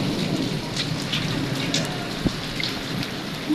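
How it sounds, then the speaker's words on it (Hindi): Steady, heavy rain falls outdoors, a thick, unbroken hiss of drops with one brief knock partway through and no voices. "बारिश हो रही है, मौसम बहुत बेहतर हो गया है।"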